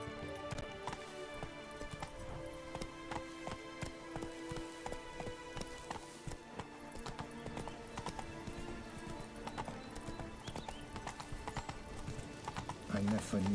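Roach, a horse in The Witcher 3, gallops steadily with rapid rhythmic hoofbeats close by, while voices talk over the hooves.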